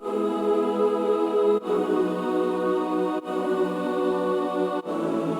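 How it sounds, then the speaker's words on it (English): Sustained synthetic boys' choir pad from Omnisphere's Boys Choir Ooze patch, smooth vocal-like chords held for about a second and a half each with brief gaps between changes, steady, clear and unaccompanied by speech. "Boys Choir Ooze, this sound right here"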